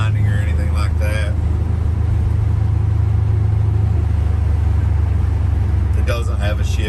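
A 1970 C10 pickup with an LS engine swap drives along, its low engine rumble loud and continuous inside the cab, while someone talks briefly at the start and again near the end.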